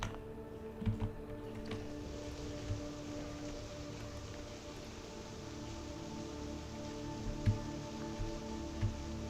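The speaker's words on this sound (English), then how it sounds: "It's raining." Rain falls in the video game Fallout: London, a faint, steady hiss of drops that runs unbroken under low ambient tones, with a few soft louder patters.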